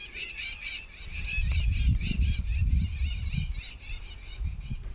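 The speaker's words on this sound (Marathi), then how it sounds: "पक्ष्यांचा आवाज बघा कसा आहे मस्तपैकी असा" Chirping and squawking birds call steadily in the background, several at once, over a low rumbling outdoor noise.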